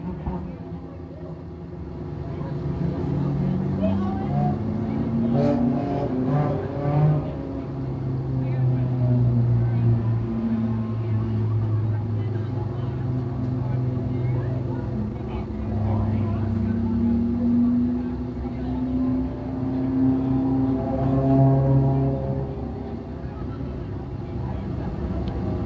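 Thundercar race cars circling a speedway oval at Can Am Speedway under a yellow caution, a steady distant engine drone that rises and falls across the whole stretch, with an announcer's voice over it.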